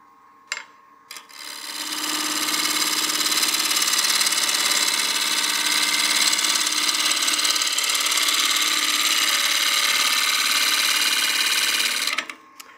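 A wood lathe turning a succulent planter at about 1,000 RPM, spinning up after a few knocks and holding a loud, steady whirring hum before winding down near the end.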